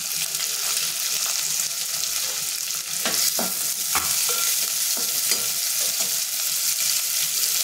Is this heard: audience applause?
no